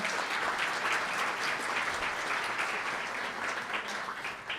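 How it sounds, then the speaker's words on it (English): Dense, steady applause from a sizable crowd at a State of the City and County address, a continuous wash of clapping with no talking over it. "How about, round of applause for Josh and the team."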